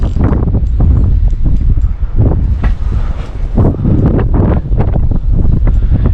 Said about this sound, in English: It's literally always windy at this lake.